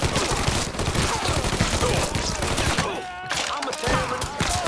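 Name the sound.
gunfire in the video game Mafia III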